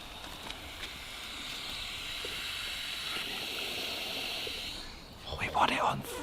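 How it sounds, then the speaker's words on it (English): A soft, steady hiss of water rushing through pipes, fairly faint and constant, ending with a brief burst of louder noise. "Can you hear water?"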